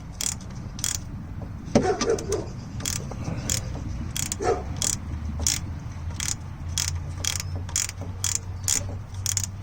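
Ratchet wrench loosening a part during an oil change on a 1997-2001 Toyota Camry, a run of sharp evenly spaced clicks with a few metallic knocks and scrapes, close by.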